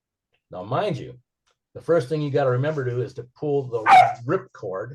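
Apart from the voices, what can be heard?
dogs barking in the background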